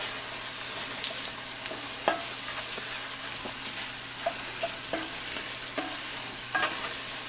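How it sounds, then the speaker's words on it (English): Vegetables sweat in a hot pan for a sourdough and andouille sausage stuffing, a soft, steady sizzle broken by a few scattered scrapes and clicks of a spoon stirring them. "now let that sweat in a little bit there. Just a few minutes here. A couple stirrings."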